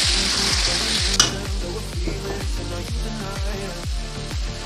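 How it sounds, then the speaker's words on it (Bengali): Potatoes with coriander powder and Kashmiri chilli fry in a pan, a bright sizzling hiss broken by a regular series of spatula scrapes and stirs, roughly two per second, close and loud. "আলুটা দিয়ে বন্ধুরা নেড়ে নেব।"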